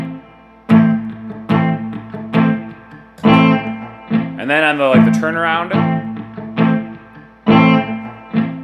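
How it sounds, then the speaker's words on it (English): A guitar loop on a looper pedal played with poor timing, giving choppy, unevenly spaced plucked notes that stop and restart, with a bent note in the middle, while a person talks briefly over it. "Now, I remember when I first started with a looper pedal, it would sound something like this."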